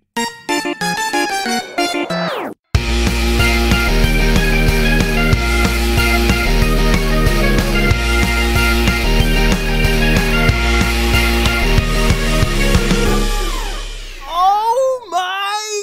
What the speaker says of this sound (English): Listen to that stinger, that intro opening up the show in a new way.